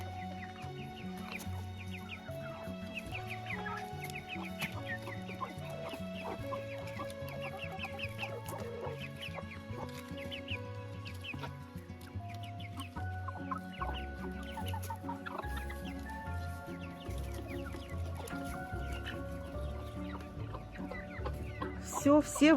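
Chickens and chicks cluck continuously as they are let out of their enclosure, a busy flock chorus heard over quiet background music.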